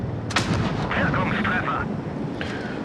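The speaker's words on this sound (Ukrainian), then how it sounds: "що був за постріл?" A loud, booming tank cannon blast in the game World of Tanks Blitz opens the clip, followed by rumbling engine noise and a whistling mechanical whine, with a voice talking underneath.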